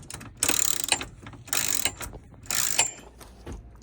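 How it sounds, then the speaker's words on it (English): A ratchet tightening the bolts of a swivel seat during a DIY van conversion, three quick bursts of rapid clicking separated by short pauses, close and clear. "we're just tightening down the 4 bolts on the outside or the back side"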